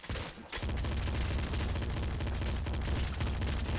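Continuous rapid machine pistol fire in the video game Nuclear Throne, a dense, loud stream of shots running steadily after a brief quieter moment at the start.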